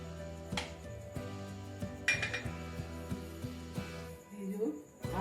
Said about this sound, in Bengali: এবার আমি ঢাকাটা দিয়ে দিলাম।